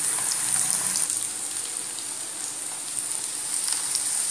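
Potato slices sizzle steadily in foamy cold-pressed groundnut oil, a close, continuous hiss and crackle with no voices.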